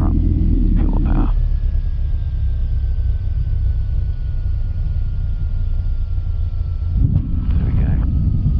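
Light propeller aircraft on landing approach with full flaps, its loud engine drone and low rumble steady throughout, rising in power near the end, with cockpit speech heard over it.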